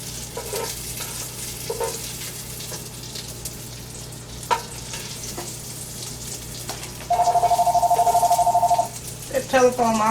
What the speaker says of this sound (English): Telephone always ringing when I'm doing a video.